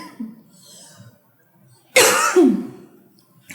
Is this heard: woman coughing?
yes